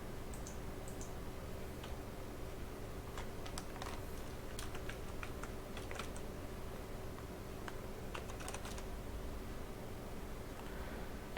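Computer keyboard typing a railway booking login, soft scattered key clicks in irregular bursts over a steady faint background hum.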